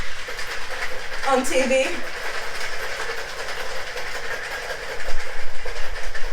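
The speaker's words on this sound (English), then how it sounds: "So I have a couple different cocktail shakers." A rosemary fig sour rattles in a cocktail shaker, giving a loud, steady, rhythmic churning of ice that swells near the end, with a brief voice over it.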